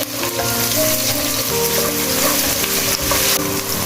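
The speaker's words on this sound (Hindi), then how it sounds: "अब हम अपने प्याज इसमें ऐड कर देंगे। प्याज़ों को हमने गोल्डन नहीं करना, बिल्कुल लाइट सा हमने इसको सोते करना है।" Onions lightly sautéing in a pan for chicken mandi, a steady crackling hiss with occasional stirring scrapes, loud and close, no voices.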